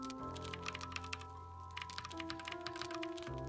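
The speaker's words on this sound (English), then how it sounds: "I still find this menu to be incredibly satisfying with the clicky noises" Crisp clicky menu sounds from the video game Heartworm, a rapid run of light taps and clicks over a steady tonal music bed.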